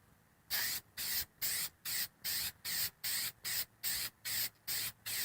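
A spray nozzle fires oil onto a K&N air filter in a steady series of about a dozen short, even hissing bursts, each roughly a quarter-second long with brief pauses between them.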